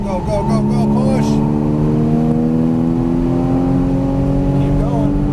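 An exotic race car on a track accelerating under throttle, a loud sustained engine tone rising steadily in pitch, heard from inside the car with a voice speaking over it.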